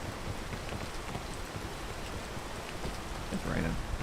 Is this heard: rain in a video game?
yes